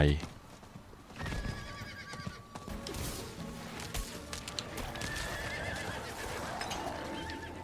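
Horse in Diablo IV gives a loud whinny at the start, then its hooves clop steadily through the rest, with someone speaking over the galloping.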